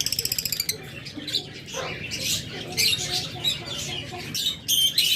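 Pet birds kept in cages at a bird seller's, including parrots, mynas, doves, lovebirds and cockatiels, make high chirps and squawks. The calls come in close, bursty clusters. A rapid run of repeated clicking trills opens, and the birds stay loud throughout.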